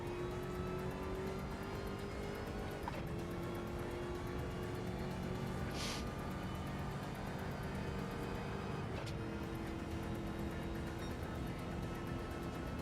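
Supercharged V8 Camaro racing in Gran Turismo 7 during an endurance race, its engine droning loudly and steadily throughout with shifting pitch as it accelerates, a brief whoosh and a gear-change dip along the way.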